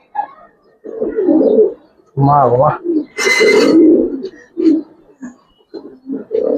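Giribaz pigeons coo in bursts of low throaty bubbling calls, close and loud, mixed with people talking nearby.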